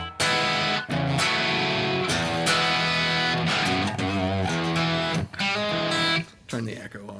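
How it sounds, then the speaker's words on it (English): An electric guitar with low-wind pickups and brand new strings plays through a medium crunch distortion, with loud, sustained strummed chords that ring out steadily, separated by a few short breaks, and no other sound. "Anyway, just over here on just medium crunch."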